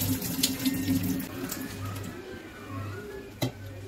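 Tap water runs steadily into a kitchen sink while toor dal lentils are washed, a continuous splashing stream with a brief clatter near the end, no voices.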